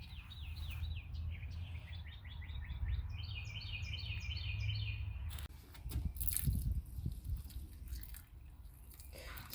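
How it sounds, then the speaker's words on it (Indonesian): Birds sing outdoors while houseplants are being divided: rapid, repeated high chirps and trills fill the first half, then stop abruptly, leaving a low outdoor rumble and scattered close handling noises. "Ada burung nyanyi-nyanyi teman-teman."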